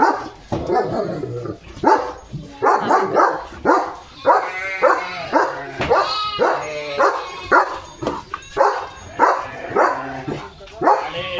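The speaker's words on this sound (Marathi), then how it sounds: "मेंढ्या आल्यात मेंढ्याचा कळप त्याला भुंकतोय" A dog barks repeatedly at a passing flock of sheep in short, loud bursts, with occasional yips and whimpering sounds mixed between the barks.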